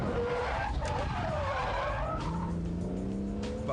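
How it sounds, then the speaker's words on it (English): A BMW Z3 M Roadster drifts under hard braking and acceleration, its tires skidding and squealing loudly over a roaring engine that rises and falls through a few hectic seconds. "Hit the foot brake to lock the fronts and bring that nose round even quicker."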